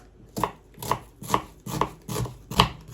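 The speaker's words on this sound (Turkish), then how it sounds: "soğanımızı yemeklik doğrayacağız" Six steady knife chops through an onion on a cutting board, evenly spaced about every half second, close and crisp with no voices.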